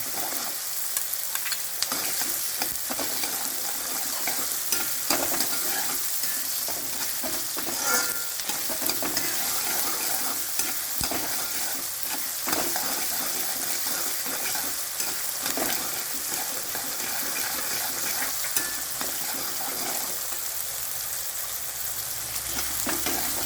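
Green chillies fry in hot oil in a pan for a Kerala-style onion theeyal curry, giving a steady, close sizzle throughout, with a spoon scraping and stirring at intervals.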